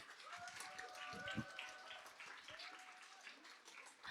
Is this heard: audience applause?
yes